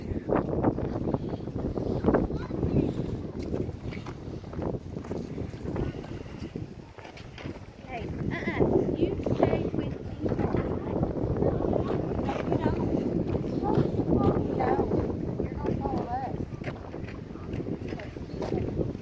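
Steady gusting wind buffets the microphone outdoors in a dirt field at a diamond-digging state park, a continuous low rumble lasting throughout with a brief lull partway.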